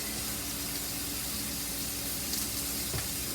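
Food frying in oil in a skillet set to high heat gives off a steady, dense sizzle and crackle that stays constant throughout, loud and close, with no voices.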